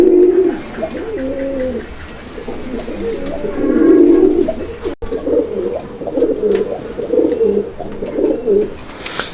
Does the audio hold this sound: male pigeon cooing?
yes